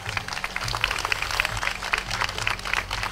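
An audience at a Bulgarian folklore festival event applauds steadily, a dense wash of clapping with a low hum beneath it and no talk over it.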